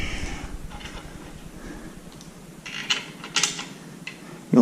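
A screw is driven into a Nathan James Oraa table during assembly, making a close, faint grinding and ratcheting creak with a few sharper clicks toward the end.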